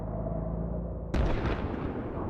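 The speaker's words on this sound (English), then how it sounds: "The sound of distant gunfire is slowly drawing closer" A single heavy boom of far-off gunfire breaks the quiet partway through, followed by a rumbling decay over low steady ambience.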